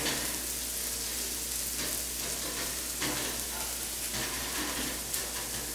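Potatoes fry in a hot pan while being mashed down, giving a continuous dense sizzle with soft scraping and stirring textures throughout.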